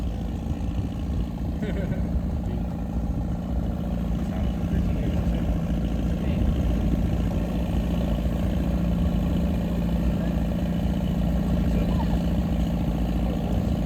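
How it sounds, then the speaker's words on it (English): A tractor pulling a wagon on a farm ride at a family-run beef cattle ranch in Alberta gives a steady, mid-pitched engine drone throughout, close and constant, with faint voices in the background. "You're on your tractor wagon ride. Here we go. Out to the field."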